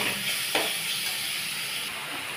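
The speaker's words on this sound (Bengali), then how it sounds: "ভালো করে মশলাটাকে কষাবো" Ginger garlic paste and chopped tomato masala fry in a pan for fish curry, giving a steady, fairly loud hissing sizzle with a brief stirring knock.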